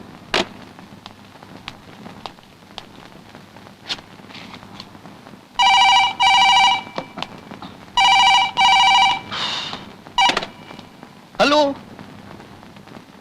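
An old telephone rings after a number is dialed, with two short double rings in a regular pattern, clear and close, heard among scattered clicks and soft background noise.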